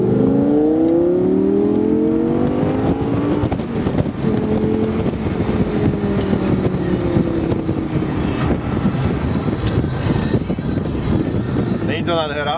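Rear-mounted 5.2 FSI V10 of an Audi R8 V10 Spyder running loud and close, with rising and falling revs that hold steady throughout, and people talking over it.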